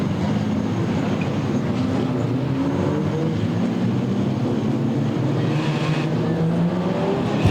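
Modified sedan race cars lapping a speedway at the Lismore Showgrounds during an Australian championship heat, a steady dense engine roar with layered revving tones that stays loud and continuous throughout.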